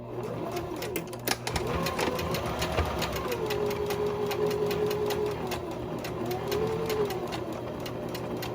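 A sewing machine stitches delicate silk with a sharp needle at a 2.5 stitch length for a boho tote, giving off a fast, even run of rapid needle clicks over a low motor hum, fairly faint and steady throughout.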